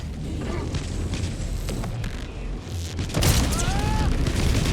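A bomb goes off in the Army of Two video game, a loud low boom with rumbling debris over steady background noise, followed by a sharper burst and a brief mechanical whine.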